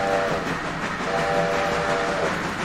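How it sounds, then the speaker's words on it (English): Locomotive horn in Railroader, two long steady blasts sounded by the player over the loud rumble of the train rolling along. "Now the AI will not honk at crossings. You, however, can for him."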